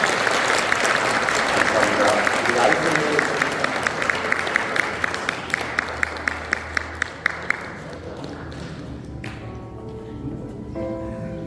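A church congregation applauds warmly at a Korean ordination service, steady dense clapping that thins into a few scattered claps and fades out.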